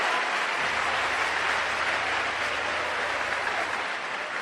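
Steady, dense applause from a church congregation at an evangelical service, many hands clapping continuously at an even level with no voices standing out, sounding moderately distant.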